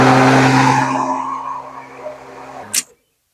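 A Greenworks 40V battery lawn mower whirs loudly at speed, its motor tone holding steady and then spinning down to silence after about three seconds.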